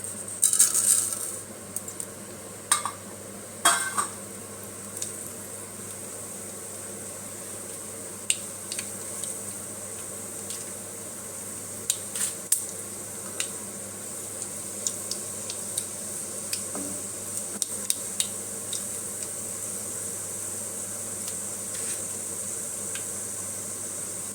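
Mustard seeds, chana dal and urad dal temper in hot oil. Sparse, sharp pops and crackles come at irregular intervals over a steady, faint hiss with no talking.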